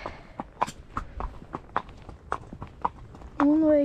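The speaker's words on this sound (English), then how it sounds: "You just did a good bit of trotting." Hooves clip-clop in a steady trotting rhythm as a horse trots along a road, close and moderately loud, ending with a brief higher tonal sound.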